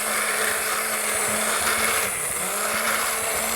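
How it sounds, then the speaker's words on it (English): A hand grinder whirs continuously as it blends cooked food, a steady, close mechanical buzz that holds unbroken for a few seconds. "I'm going to use the hand grinder."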